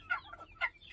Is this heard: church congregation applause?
no